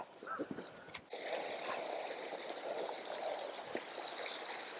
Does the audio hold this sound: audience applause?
no